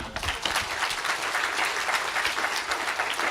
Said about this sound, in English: one more round of applause for the rock star of geopolitics